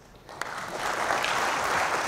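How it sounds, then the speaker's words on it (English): Audience applause at a GDG DevFest conference talk on Android, rising after a brief quiet start into a steady, dense wash of clapping that fills the room, with no voices over it. "I think you can clap for this."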